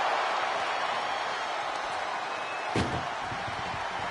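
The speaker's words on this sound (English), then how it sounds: "Look at the struggle just to shut that first door." A heavy ambulance door slams shut once during a wrestling ambulance match, a sharp thud cutting through the deafening arena crowd roar that fills the whole clip.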